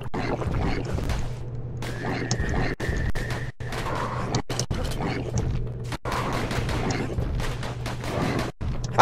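Pistol gunfire in the video game Bastion: repeated sharp shots in quick bursts over a steady hum of game music and effects, with someone talking over part of it.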